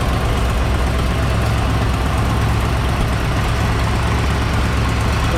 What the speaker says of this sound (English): There is a slight exhaust leak on this side, so it's a little louder than it should be